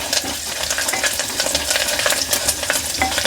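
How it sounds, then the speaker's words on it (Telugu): Mustard seeds, cumin and dry chillies crackle in hot tempering oil, a loud dense spatter of popping and sizzling that goes on without pause, with no voices. "మంచి ఇట్లా చిట్పట అని అంటే మన చారు అయిపోయినట్టే"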